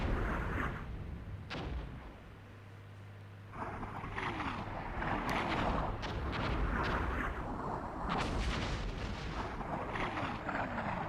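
Artillery fire in the Armored Brigade II war game: a steady rumble of repeated distant booms and shell blasts, with several sharper reports breaking through a constant low background.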